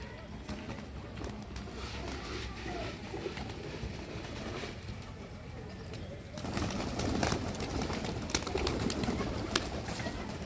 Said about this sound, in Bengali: এগুলো ম্যাক্সিমাম বাচ্চা পায়রা এখানে, মানে বাড়ির বাচ্চা আর কি